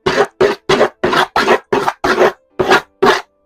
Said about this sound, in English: take your board and scrape it, scrape the outline